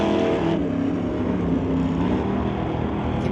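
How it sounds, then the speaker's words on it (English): A Corvette drag racing car's engine throttling at the drag strip, a loud, continuous close engine roar with a dense low rumble and no voices. "Hear those throttle delays"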